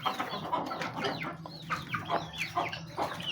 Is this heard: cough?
no